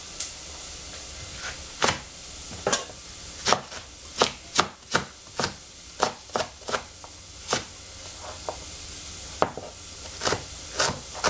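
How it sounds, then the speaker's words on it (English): A knife chops through capsicum (sweet pepper) on a board with about twenty crisp, close knocks. They come in uneven bursts and short runs, with quiet gaps between them. "Then I cut some of this poivre."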